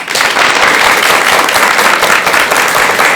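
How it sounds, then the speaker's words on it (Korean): Loud, dense audience applause after a Buddhist monk's lecture in a studio hall, a steady continuous wash of clapping from many hands throughout. "오늘 멋진 강연해 주신 용수 스님께 다시 한 번 더 큰 박수 부탁드립니다"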